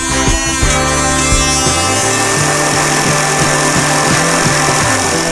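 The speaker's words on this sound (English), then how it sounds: "do a very improvised plunge cut with the jigsaw" An oscillating multi-tool and a jigsaw make an improvised plunge cut into cupboards inside an ambulance being converted to a campervan. The loud, continuous buzzing cut runs close up with a stuttering, pulsing rhythm and no talk.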